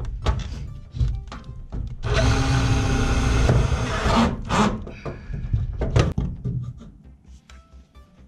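A power drill drives screws into steel-frame wall studs while joining metal-stud partition walls, giving a loud sustained whir of about two seconds, then short bursts and knocks.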